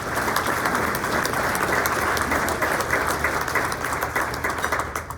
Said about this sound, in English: That should be an applause.